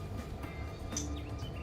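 A diesel freight train on an ATSF local service rumbles steadily in a Run 8 train simulator, low and continuous, with a few faint higher squeals over the drone.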